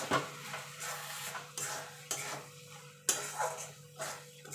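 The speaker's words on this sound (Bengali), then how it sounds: "এবার ভালো করে নেড়ে দেবো" Carrot halwa with ghee-fried almonds and cashews is stirred in a pan, with a spoon scraping and knocking against the metal in several distinct strokes over a low, steady background hum.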